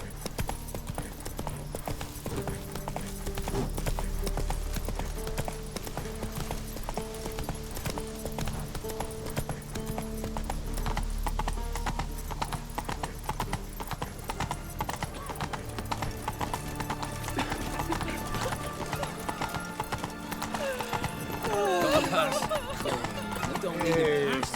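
Roach the horse gallops through the Witcher 3 game world, steady rhythmic hoofbeats clip-clopping close and continuous, with occasional snorts and a whinny near the end, under intermittent game dialogue and background music.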